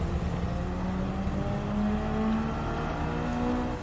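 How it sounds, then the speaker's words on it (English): A Mitsubishi Lancer Evo XI engine revs hard in a racing video game on the Red Bull Ring circuit, a loud, continuous high-revving drone whose pitch climbs steadily with no speech. "you notice I am revving the car like nuts"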